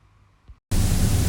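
A 2017 Princess V48 Open Sports Cruiser motor boat running at about 18 knots, with a sudden loud, steady roar of wind and rushing water that bursts in after a near-quiet moment.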